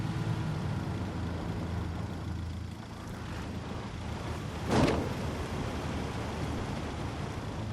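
A vehicle driven in the tactical shooter game Ghost Recon Wildlands, its steady low engine rumble running throughout with a brief louder burst of noise midway, no talk over it.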